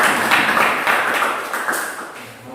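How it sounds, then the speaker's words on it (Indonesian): Applause from a class of students after a classmate's presentation, a brief burst of scattered clapping in a room that thins out toward the end. "Kita tepuk tangan untuk temannya."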